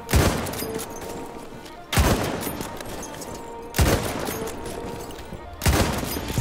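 Sniper rifle fire in the Battlefield 1 video game: four loud booming shots roughly two seconds apart, each with a long rumbling tail that fills the gap before the next.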